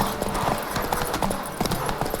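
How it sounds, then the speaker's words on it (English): Hooves of a horse galloping in The Witcher 3 video game, a steady clip-clop rhythm running throughout at moderate loudness, with no talk over it. "Horse almost out of stamina."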